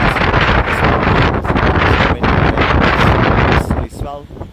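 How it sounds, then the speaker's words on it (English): Strong wind buffets the microphone on a beach during a dawn surf contest in Barbados, a loud continuous roar with gusty swells that drops briefly near the end, with faint talking underneath. "If we don't have this wind, we will not have a swell."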